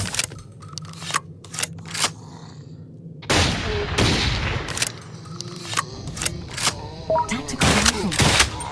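Tactical rifle gunfire in the mobile game Audio Defense, a series of sharp close shots and bursts, some spaced apart and some in quick runs, with brief game voice prompts between them.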